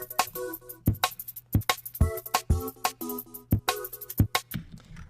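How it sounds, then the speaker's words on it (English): A light, pitched-up drum and bass breakbeat at a fast tempo near 180 BPM, with crisp, snappy hits in a busy, spacious pattern over a low sustained bass tone and tonal chords, playing alone. "So I'm using this pretty light, pitched up break that sounds like this."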